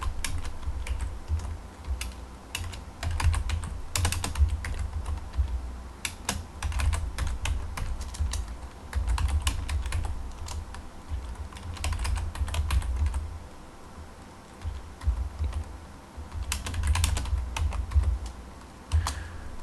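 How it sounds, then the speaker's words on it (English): Code typed on a Commodore 64 keyboard: steady, close clacking keystrokes in quick bursts with short pauses, continuing for about twenty seconds with no voices. "so let me type out the lines."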